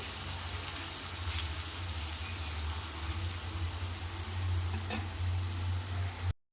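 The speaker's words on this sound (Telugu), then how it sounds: "ఇది ఫ్రై కావాలండి. ఒక 10 నిమిషాలు పడుతుంది ఫ్రై అయ్యే వరకు. మధ్య మధ్యలో కలుపుతూ ఫ్రై చేయాలి." Potatoes fry steadily in a hot pan for a potato and egg dish, giving a continuous even sizzle and hiss with a low steady hum beneath and no talking.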